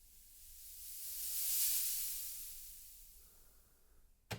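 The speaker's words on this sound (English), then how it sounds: "all I'm going to do is show you how I make noise sweeps in Phase Plant" A synthesized noise sweep made in Phase Plant rises as a soft airy hiss to a peak, then slowly falls away, fairly quiet and alone, ending in a brief click.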